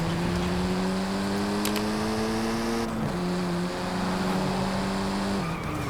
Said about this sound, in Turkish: araba full giderken de iyi yol tutunca tabi abi şu ses kulak tırmalıyor bir yerde